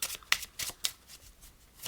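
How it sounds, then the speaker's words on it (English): A deck of cards is riffled and shuffled in quick, soft bursts of crisp fluttering, close and fairly quiet, with no voices. "then the deck can be shuffled"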